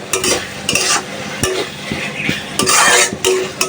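Small shrimp fry in a pan with a bright sizzle while a utensil scrapes and clatters against the metal in quick, repeated strokes, close and fairly loud.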